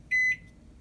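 A Toshiba ML-EM45P countertop microwave oven gives one short, bright electronic beep as its clock button is pressed, clean and close in an otherwise quiet room.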